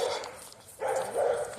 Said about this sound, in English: I'm so sick of barking fucking dogs.